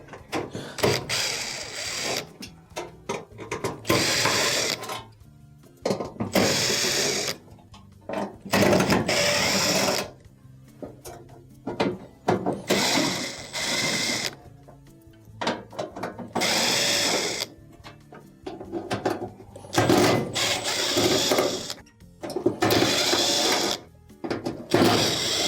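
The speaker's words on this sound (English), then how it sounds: "Next, we need to remove these 10 screws that are holding on the top." A power screwdriver whirring in repeated short bursts as it backs screws out of a gas range cooktop, loud and close, with brief pauses between each screw.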